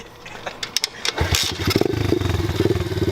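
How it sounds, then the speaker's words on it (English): An Apollo 125cc pit bike is kick-started: a few scuffing kicks and clatter, then the small single-cylinder engine catches and settles into a loud, close, rapidly pulsing idle with no talking. "you just kick it and it starts up. Here, I'll show you real quick"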